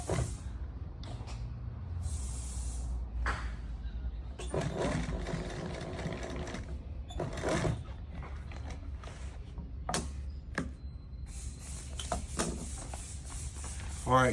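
Sewing machine stitching a diamond-pattern vinyl cushion, running in short bursts with brief pauses and shuffling handling noise between runs.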